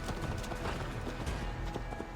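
Horse galloping in Assassin's Creed Valhalla, with a rapid, steady clip-clop of hooves close by and a busy background mix beneath.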